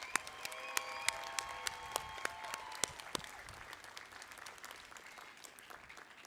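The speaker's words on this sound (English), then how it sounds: "And once more, a round of applause for our graduates." An audience at a class of 2021 graduation ceremony applauds the graduates, with sharp individual claps standing out over a steady wash of applause that fades and thins toward the end.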